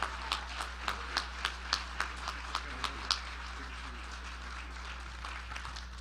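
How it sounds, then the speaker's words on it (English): An audience claps for newly installed officers at an inaugural night, a modest, fairly quiet round of scattered claps that fades out after about three seconds, leaving room noise and a low hum. "let's give them a great round of applause"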